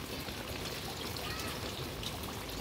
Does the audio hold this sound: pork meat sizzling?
no